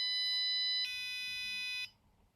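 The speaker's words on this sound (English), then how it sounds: "That was such a sad beep boop." A small speaker driven by a Raspberry Pi Pico emits a thin electronic beep in two pitches, a lower tone then a higher one, each clean and sustained before cutting off into quiet.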